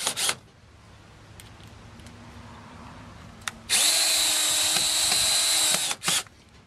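A power drill drives screws into J rail, starting with a short tap and then a steady, loud high whine for about two seconds before stopping with a brief final burst, set against quiet background.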